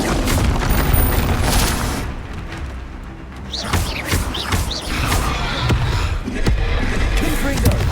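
A Confringo fire spell cast in the video game Hogwarts Legacy lands as a string of heavy booms and thuds, with sharp whooshing sweeps in the middle. The bursts are loud, close and layered among other combat noise.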